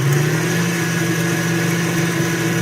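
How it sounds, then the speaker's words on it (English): A KitchenAid stand mixer runs on high, powered from a Monstar M300 portable solar generator, a steady loud motor whine and hum that holds evenly throughout. "the table is shaking, that's because the KitchenAid is on high"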